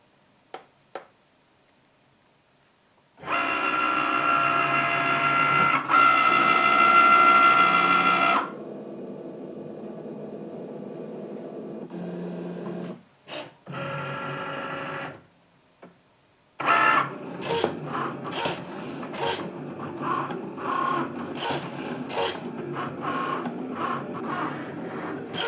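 A Cricut Maker cutting machine works through fabric on a loaded mat, giving steady mechanical whirring and buzzing in bursts with short pauses, then a run of rapid ticking and clattering carriage movements, heard up close without talk.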